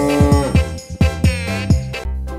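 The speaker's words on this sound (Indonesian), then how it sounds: "Lalu di sini ada seekor sapi." A cow moos in a series of short, close, low lowing calls in quick succession, loud and alone.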